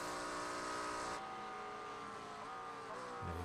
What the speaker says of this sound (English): hear Luke Plaisance lift out of it to allow his teammate through